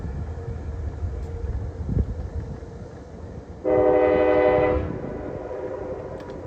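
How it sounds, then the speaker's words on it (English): Metro-North 211, the New York Central heritage locomotive, sounds a loud, steady horn blast of about a second over a low rumble of passing rail cars and outdoor wind. "Up next is none other than Metro North 211, the New York Central Heritage Unit"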